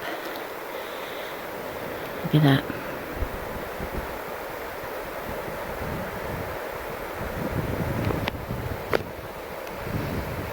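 Wind and the flowing Logan River in Logan Canyon on a hot, smoky August morning, a continuous broadband rush with gusty microphone buffeting; a person speaks briefly early on and a few faint knocks occur near the end.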